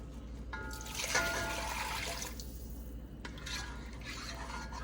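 Water is poured into a cooking pot for Puerto Rican rice with pigeon peas in two bursts, a splashing trickle followed by a short pause and another pour, fairly close.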